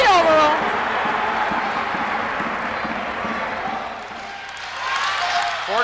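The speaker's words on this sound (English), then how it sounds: "the crowd's starting to come alive a little bit" Indoor crowd at a 1994 men's volleyball tournament match, the home Dons facing Ball State, cheering and applauding as a steady roar. It dips briefly, then swells again toward the end, with voices talking over it.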